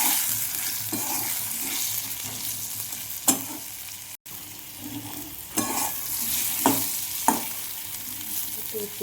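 Leafy greens with salt and turmeric frying in a pan keep up a steady sizzle, punctuated by several sharp spatula knocks and scrapes against the pan, with one brief dropout midway.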